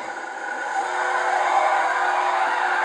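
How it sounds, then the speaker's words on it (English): Lamborghini drifting in GTA V, a sustained, loud engine roar with tire squeal that swells steadily over a few seconds, no talk. "Let's do a drift in the road."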